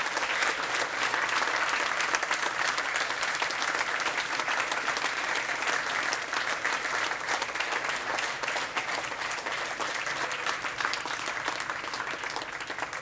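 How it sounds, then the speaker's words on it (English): An audience claps loudly and steadily after a closing keynote on calm technology. The dense applause is continuous and even for the whole stretch, with no voices on top. "give a huge round of applause to everybody who's been involved"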